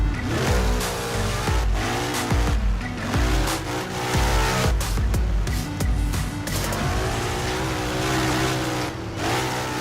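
Formula-style F310 SP car in a drifting session in Assetto Corsa, its engine revving up and down with repeated sharp gear-shift pops and tire-scrub hiss, loud and continuous.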